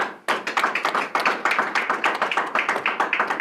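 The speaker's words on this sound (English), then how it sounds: "So a round of applause for Nizube for the group." Applause from a seminar audience for a speaker at a tech startup business event: a modest number of people clapping in quick, fairly even rhythm, close and steady throughout, with no talk.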